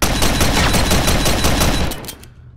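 A shotgun fires in the Gun Club VR video game, with a loud, rapid run of sharp blasts close up. They cut off abruptly near the end, leaving a short decaying tail.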